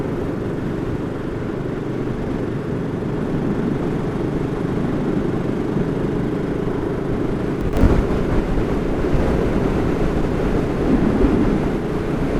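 A BSA Gold Star 650 motorcycle rides along with a steady, loud engine drone blended with heavy wind rush past the microphone, with no speech.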